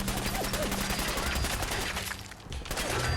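Gunfire in the video game Fallout 4, with rapid, dense bursts of shots crackling continuously in a busy firefight, moderately loud throughout with a brief dip near the end.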